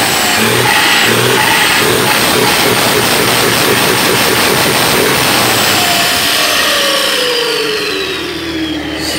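A car engine fitted with a 14-19 turbocharger being tested revs hard and holds high, a loud continuous roar with rising and falling whine, close by and without talk.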